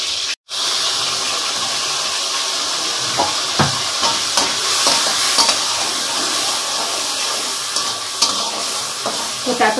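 Chopped tomato with garam masala, cinnamon and cardamom sizzles in hot oil in a pan, a steady loud frying hiss with scattered spatters and stirring clicks throughout, after a brief drop at the start.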